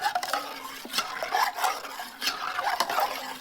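Spoon stirring eggs into thickened milk in a cooking pot, a repeated scraping and swishing against the metal in uneven strokes, close and fairly quiet.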